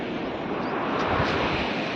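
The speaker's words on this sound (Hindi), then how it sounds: "चलो तो देखो झरना ये बेहतरीन झरना है" A waterfall roars as a steady broadband rush of falling water, loud and continuous, with a slight wind buffeting the microphone and no voices.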